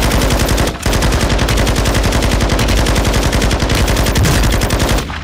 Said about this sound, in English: Yeah, I'm getting shot at down here